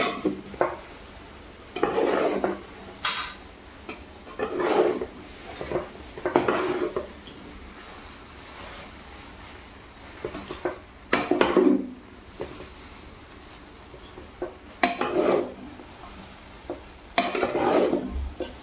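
Kande pohe stirred in a pan on a gas stove, with recurring bursts of scraping and rubbing from a spoon against the pan, separated by quieter pauses, close and clear, no talking.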